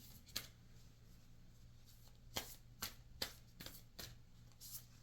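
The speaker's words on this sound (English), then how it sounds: "Now let's get some Moonology cards here" Moonology oracle cards being shuffled, heard as a few soft, sharp riffles and taps spaced unevenly over a faint steady hum, close and quiet.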